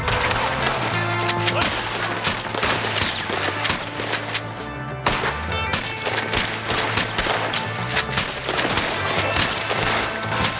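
Sustained gunfire from a video game shootout, a tower fight with dense bursts of automatic and single shots crackling continuously at steady loudness, with a brief lull midway before the firing resumes.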